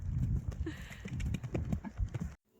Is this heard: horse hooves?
yes